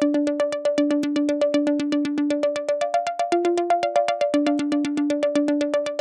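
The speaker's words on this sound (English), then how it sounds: "this filter delay called Wanderer. So it's a preset in Ableton" Synth lead run through Ableton's Wanderer filter delay preset, with delay settings across three bands: bright plucked notes repeat in a steady, fast rhythm, the pitch stepping between a few tones, echoes blurring together, alone and fairly loud.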